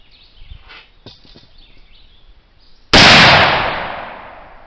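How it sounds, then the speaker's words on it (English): A single loud rifle shot fired with a new-recipe Swiss-style black powder load booms near the end and decays slowly, after quiet handling noises. "I'm going to fire 3 rounds and swab in between shots with a spit patch and a dry patch"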